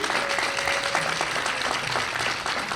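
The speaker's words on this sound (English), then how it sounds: "we got to give him a round of applause today" An audience at a dedication ceremony applauds Congressman Lynch with a dense, steady round of clapping from many hands, fairly loud and continuous throughout with no speech on top.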